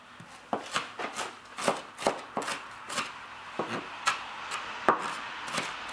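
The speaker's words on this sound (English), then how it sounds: "And then what you want to do is just very thinly cut." A knife thinly slices an onion on a wooden cutting board, producing a steady run of crisp, close chopping taps about twice per second, fairly quiet with no talk.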